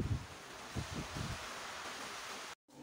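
Steady roaring typhoon wind rushing past the microphone, with low gusty rumbles near the start, then a sudden brief cutout.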